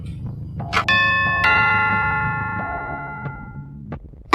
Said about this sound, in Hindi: घर की डोरबेल बजी।